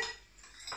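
A utensil scrapes a bowl clean while making homemade apricot-jam pastries, giving short scratchy clinks of metal on dish, fairly close and alone.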